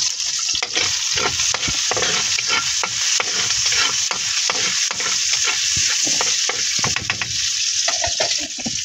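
Onion and garlic sizzle and crackle steadily in a hot pan while being stir-fried, with scraping stirs throughout, loud and close, no talking.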